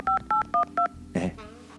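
A telephone number is keyed in for a call: four short, evenly spaced touch-tone beeps sound close and clear, followed by a brief muffled sound.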